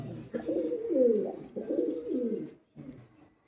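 Red Bull pigeons coo close up in deep, rolling phrases, two long swelling coos followed by a shorter one, with no talk over them.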